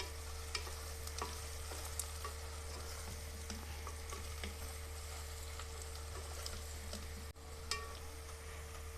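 Chopped onions frying in a pan and being stirred, a quiet continuous sizzle with scattered crackles and light scraping, close but soft, with a low steady hum underneath.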